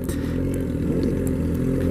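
A steady, loud motorcycle engine drones close by with a low rumble and faint clatter, with no voices.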